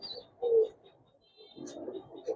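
Giribaz and coloured pigeons coo softly nearby, a few low, brief throaty calls spaced apart, with faint background sounds and no talk.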